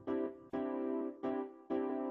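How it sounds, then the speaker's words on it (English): Electric piano chords in a simple bossa nova rhythmic pattern, four syncopated stabs with short decays, quiet and alone with no voices. "Now in this case, it's an electric piano."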